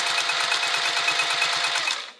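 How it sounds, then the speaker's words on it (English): A sewing machine stitches straight across the top edge of a fabric spring roll pouch, a close, steady, fast mechanical whir with a regular rhythmic chatter that winds down at the end. "we're going to sew right across this top edge"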